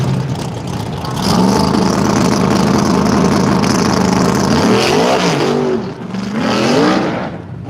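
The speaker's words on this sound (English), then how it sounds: "Scott's blowing the tyres on the start." A radial-tyre drag racing car launches at Willowbank, Australia, with its tyres spinning at the start, producing a loud, sustained engine roar with wavering, rising and falling revs and a brief dip before it surges again.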